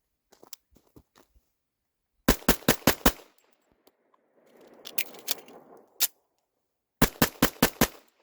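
A Metro Arms Commander pistol fitted with a DPM recoil reduction spring and guide rod fires three quick strings of about five loud, sharp shots each, separated by pauses with faint shuffling and rustling.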